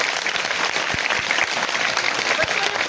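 A crowd applauds steadily for schoolgirls at a good touch bad touch awareness program, a dense wash of clapping from many hands that continues without a break, with a faint voice underneath.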